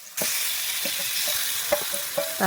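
Mashed ripe plantain sizzles as it goes into hot ghee for a banana payasam (nendrapazham pradhaman). A steady frying hiss starts abruptly, with soft scraping stir knocks throughout and no talk.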